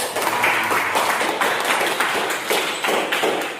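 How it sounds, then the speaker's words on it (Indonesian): Classroom applause from students in a teaching session, a dense, steady patter of many hands clapping throughout with slight swells, fairly close and without talk over it. "Beri tepuk tangan yang mulia."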